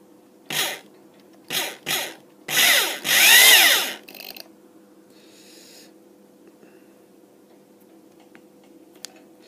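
Power drill twisting wire for a Clapton flat vape coil, several short whirring bursts then a longer rising spin, loud and close, followed by quiet.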